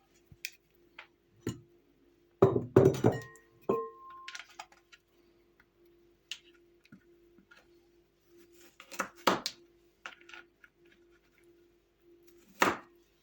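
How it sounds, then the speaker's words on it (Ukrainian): Sparse knife cuts through cucumbers tap against a board, a quick cluster of clattering chops followed by scattered single cuts with quiet gaps between them. "Тепер беремо, підріжемо наші огірки на довільні шматочки"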